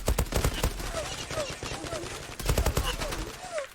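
Gunfire in the online shooter Zula, including M4A1 rifles: rapid bursts of shots in two clusters with scattered single reports between, fairly loud against game background sounds.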